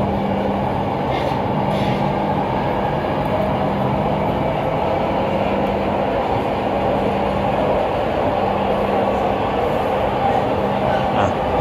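A Jabodebek LRT light rail train carries riders along with a steady, continuous rolling hum and rumble, a constant motor tone underneath, heard from inside the car with faint voices in the background.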